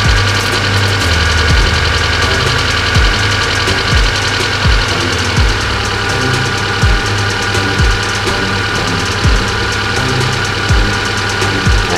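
Loud fuel-injected car engine idles steadily up close, with a continuous hum and regular ticking pulses, alone without talk.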